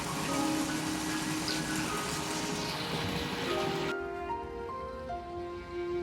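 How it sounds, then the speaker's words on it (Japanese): Otowa waterfall at Kiyomizu-dera temple in Kyoto, a 13-metre fall split into three streams, gives a steady broad rush of falling water. Faint tones and murmurs sit over it, and the mix shifts partway through. "これは清水の語源となった滝です。"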